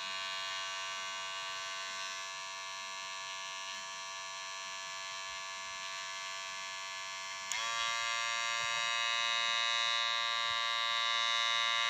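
DIY triple-speed electric hair clipper running: a loud, steady high-pitched motor buzz close by, which jumps to a brighter, faster whine partway through when the speed is switched up.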